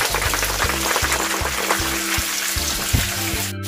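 Mackerel frying in a pan, a steady close sizzle and crackle of hot oil running throughout, with low hum beneath and no talk.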